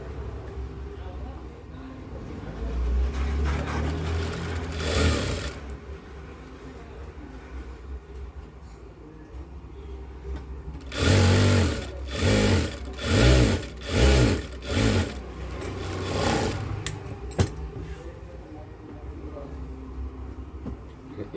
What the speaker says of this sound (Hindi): इसको उल्टा करके ऐसे सिलाई मार देनी है